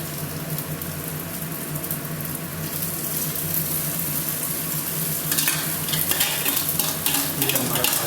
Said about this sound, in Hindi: और अब हम इसमें डालेंगे पास्ता, धीरे धीरे हमें डालना है।